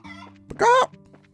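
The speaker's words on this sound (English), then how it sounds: "Get over here, chickens." A chicken in Trails in the Sky lets out a single loud, squawking cluck, preceded by a softer short cluck over a quiet, humming game background.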